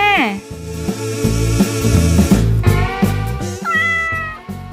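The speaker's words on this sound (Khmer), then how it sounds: "ឆ្មា" A cat meowing loudly and insistently close by, a string of drawn-out wavering cries.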